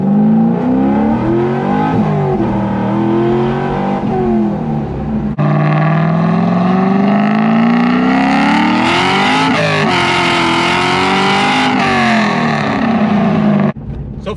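A C5 Corvette Z06 engine revving while driving, loud and close, its pitch rising and falling with throttle, climbing in a long pull with crackling bursts before dropping back.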